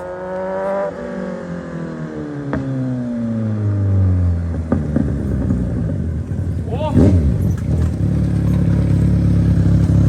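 A Kawasaki Z1000 motorcycle engine and exhaust rev repeatedly. The rising and falling pitch sweeps build to a louder, rougher roar, with voices faintly underneath.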